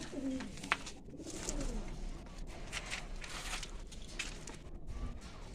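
Pigeons in a loft coo softly and repeatedly from nearby, with bursts of shuffling and faint wing or foot movement around them and no talking.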